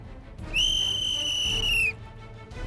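One loud, shrill whistle blast, held steady for over a second, then cut off sharply.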